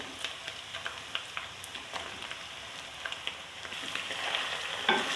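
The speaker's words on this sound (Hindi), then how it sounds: "चिकन भून रही है" Chicken fries in a pan for a cauliflower and chicken dish, a soft continuous crackling sizzle dotted with small pops and light clicks, moderately quiet and close, with no voices.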